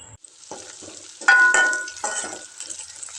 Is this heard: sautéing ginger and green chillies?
yes